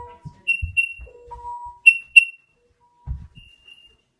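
A Nest carbon monoxide alarm under test gives short, sharp electronic beeps and tones in scattered bursts, fairly close, with a faint low voice-like sound between them.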